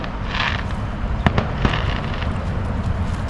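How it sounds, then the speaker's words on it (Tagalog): Fireworks going off outdoors in the morning: a few sharp, distant bangs and crackles over a steady background rumble, with no talking. "Fireworks! May fireworks pala sa umaga."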